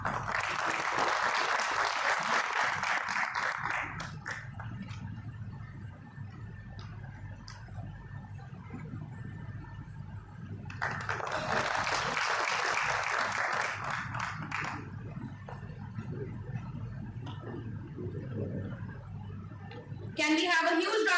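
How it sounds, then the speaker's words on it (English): Bursts of applause from a crowd, clapping loud for a few seconds, fading, then swelling again, with quieter murmuring and room noise between the rounds. "Can we have a huge round of applause for our dignitaries on dais?"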